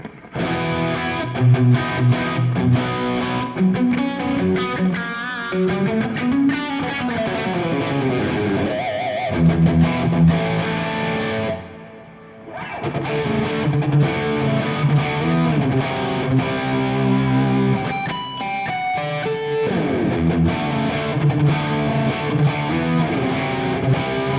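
A distorted electric guitar plays continuously with ping-pong tape delay repeats and room reverb, pausing briefly midway before resuming, no voices.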